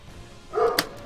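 A dog barks once in a Donkey Kong Jungle Beat speedrun, a short yelping bark rising over quiet game ambience, with a sharp crack following right after.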